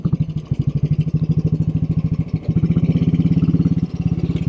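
A 1957 Royal Enfield Bullet 500 single-cylinder motorcycle, built at the Redditch factory in England and in excellent condition, runs close by with a loud, even, rapid thump that steps up in pace partway through.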